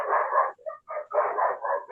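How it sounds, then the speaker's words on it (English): Small dogs bark in a quick run of yaps and yips, several short bursts with brief gaps, fairly faint and with no talking. "pinches perritos"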